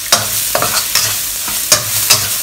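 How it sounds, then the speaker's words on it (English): Crispy garlic shrimp stir-fried in oil in a cast iron wok, loud close sizzling broken by a handful of sharp spatula scrapes and clanks in uneven rhythm, with no voices. "so I'm just going to fry this"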